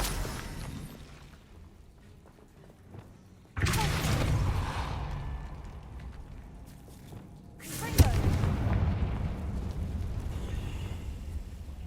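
The Bombarda blasting spell in Hogwarts Legacy, two heavy booming explosions a few seconds apart, each followed by a rumbling roar that slowly fades, with a voice speaking faintly in between.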